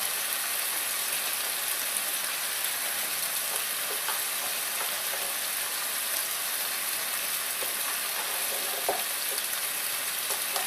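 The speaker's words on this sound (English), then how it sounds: "I'm going to add those to the risotto." Mushrooms, broccoli and spring onions frying in a risotto pan give a steady, close sizzle with faint crackles and occasional stirring scrapes, continuous and without talk.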